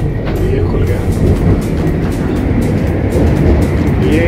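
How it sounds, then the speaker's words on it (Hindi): Steady rumble and hum of a moving passenger train between Leicester and Nottingham, heard from inside the carriage, loud and continuous without clear breaks. "ये ट्रेन है।"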